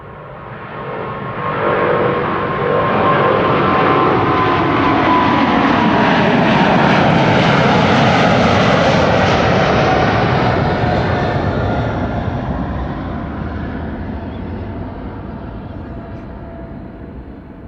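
KLM Flight 661, bound for Houston, departs runway 24 (Kaagbaan) at Amsterdam Schiphol; a loud jet roar swells within two seconds, holds steady and strong, then slowly fades as the airliner climbs away.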